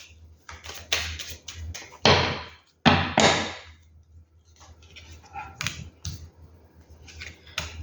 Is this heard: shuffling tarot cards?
yes